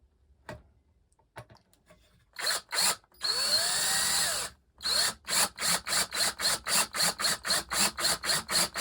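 A drill bores countersinks into wooden bed frame screw holes. A few sharp taps and one sustained whirring burst give way to a rapid, evenly spaced train of loud ratcheting pulses close by.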